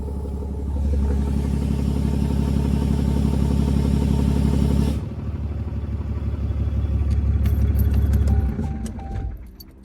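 A Ram 2500 6.7L diesel engine with an unusually loud exhaust rumbles with a throaty note, then changes tone midway as the exhaust brake shuts off and winds down with some clattering toward the end.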